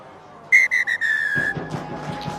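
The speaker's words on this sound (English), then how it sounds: "And there you have it, final whistle" A referee's whistle ends a women's rugby match: several short sharp blasts in a quick run, then one longer sustained blast, loud and close, followed by a dull crowd murmur.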